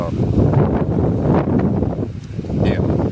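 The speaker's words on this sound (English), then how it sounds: "Let's wait for this wind gust to pass." A strong gust of wind roars steadily across an outdoor fishing spot, loud and close with microphone buffeting throughout, briefly easing near the end.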